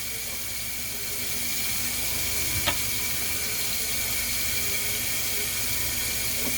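Hands being washed under a running kitchen tap, a steady close rush of water with a faint clink partway through and no talking.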